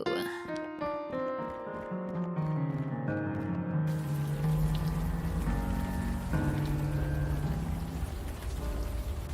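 Rain falls in the adventure game Unavowed as a steady, dense wash of noise that swells in over the first few seconds. A descending musical phrase plays over it, and there is no talking.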